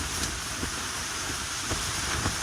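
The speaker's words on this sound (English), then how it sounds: "the rain is back. A lot of rain, a lot of wind." Heavy rain pounds a tent during a windy Caribbean storm while camping, a dense steady hiss with scattered louder drop hits and gusts, close and continuous with no voices.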